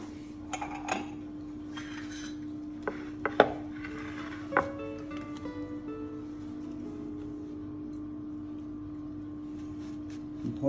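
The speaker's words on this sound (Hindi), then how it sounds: "मीनवाइल में बनाना ब्रेड को भी हम एक पीस उसका काटते हैं।" A knife slicing a piece of banana bread on a board, a few sharp taps and knocks clustered early, then soft scraping over a steady appliance hum in a quiet kitchen.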